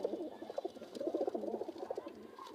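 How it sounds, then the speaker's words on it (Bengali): A golla pigeon coos in a soft, steady run of low murmuring calls, close by and continuous, with no talking over it. "এই গোল্লা কবুতরটা"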